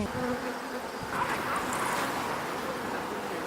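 Honeybee foragers buzz near their hives in a continuous, close, droning hum that swells and fades as individual bees pass by.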